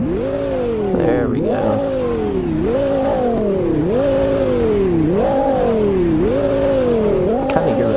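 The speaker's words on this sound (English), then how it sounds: "Let's give it a rev though." A starter car's engine in the Roblox game Greenville revs repeatedly in rising and falling sweeps, loud and close, with a brief spoken remark near the start.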